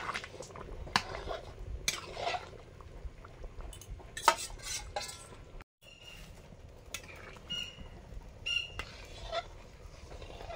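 Khichuri of rice, vegetables and dal being stirred with a spice mix in a pot, with repeated scraping and metal clinks against the pot, some louder clatters, and bird squawks in the background.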